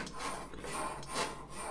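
Dirty tuba valve slides, coated with grime stuck to the oil, scrape and rasp as they are moved, giving a series of close, faint rubbing strokes.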